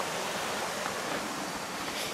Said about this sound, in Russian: Снизу у нас река.